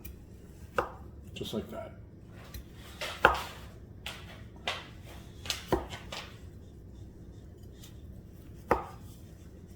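A knife cuts unpeeled potatoes into thin slices, making a series of irregular sharp taps against a cutting board with quiet gaps between, while a person speaks briefly.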